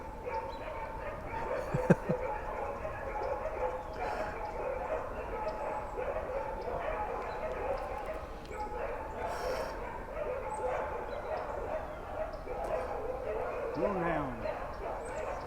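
Dogs barking and yipping beside a Georgia river, several voices calling out over a steady outdoor bed with people talking throughout.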